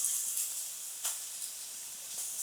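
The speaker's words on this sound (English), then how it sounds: "And we're basting, guys. You wanna baste your seafood with this Cajun seasoned butter that I made." Seafood, salmon and shrimp, sizzles quietly while being basted with Cajun seasoned butter, a steady soft hiss with a few faint pops and spits, no talking.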